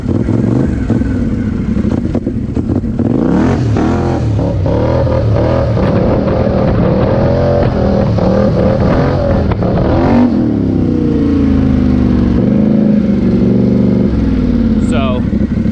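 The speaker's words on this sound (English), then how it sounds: "I like to ride the brake, get the throttle up, get the clutch engaged" A Polaris High Lifter 850 ATV engine revs hard in rising and falling surges as the throttle is held up for a wheelie, loud and close, with someone talking over it.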